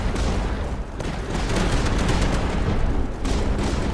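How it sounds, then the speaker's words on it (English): Rapid bursts from a pulse cannon in the tower defense roguelike Tower Dominion, a dense continuous barrage of sharp shots, loud and steady for the whole stretch with a brief dip near the start. "Pulse cannon? It's shooting so fast."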